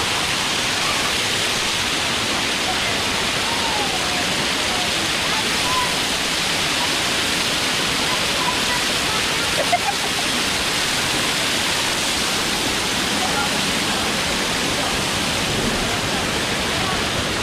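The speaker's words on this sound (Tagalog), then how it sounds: "Yung ilog mula doon sa falls." A river tumbling down from a waterfall gives a steady, loud broadband rush of water that fills the scene without pause, with no clear voices over it.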